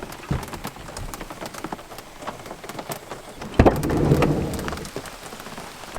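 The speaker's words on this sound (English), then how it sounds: "It won't stop raining!" Heavy rain in Germany drums steadily on a camper van, with a sharp crack and a swelling rumble of thunder partway through. No one speaks.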